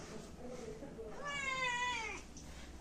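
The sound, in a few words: cat meowing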